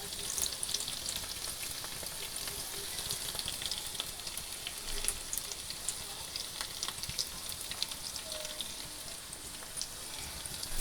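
Garlic sizzles steadily in hot oil in a pan, a dense, even crackle with small pops running throughout, close and unbroken with no talking.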